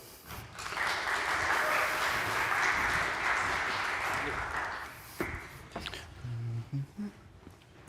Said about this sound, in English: Give a round of applause to Raul.